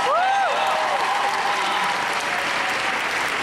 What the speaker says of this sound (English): Everybody, give yourself a round of applause.